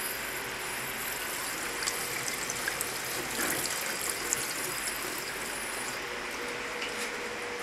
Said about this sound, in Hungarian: Milyen jó barna jön most előre a csapból.